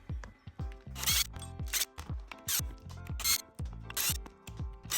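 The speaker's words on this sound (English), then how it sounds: "I see right away I have some T15 Torx screws. Let's take those out." T15 Torx screws are turned out of a Schlage keypad lock, a quiet close series of rhythmic ratcheting clicks and squeaky twists repeating about every second.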